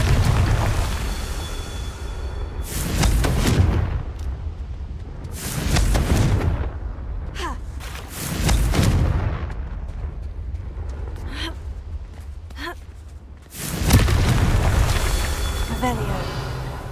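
Confringo fire spell blasts in the video game Hogwarts Legacy, several loud booming explosions spaced a few seconds apart over a continuous game soundscape, with a voice speaking between them.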